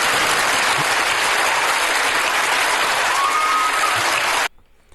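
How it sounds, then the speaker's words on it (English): Sustained applause from a large lecture audience, a dense, even wash of clapping that holds steady for about four and a half seconds before cutting off abruptly into near silence. "And then the people clap."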